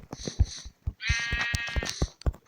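Sheep bleating in Minecraft Pocket Edition, a drawn-out wavering game bleat in the middle set between short clicky footstep and block sounds, moderately loud and alone without talk.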